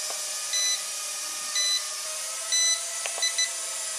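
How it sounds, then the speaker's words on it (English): A toy drone's remote controller beeps as it is switched into fast mode, giving short, thin electronic tones that repeat a few times over a steady hum. "if you press and hold the right stick in, you'll hear it beep twice, and that's gone into fast mode."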